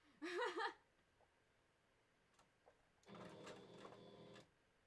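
A sewing machine stitches a wolf fursuit partial head, with a short steady run of rapid mechanical needle clatter in a quiet room, preceded by a brief voice.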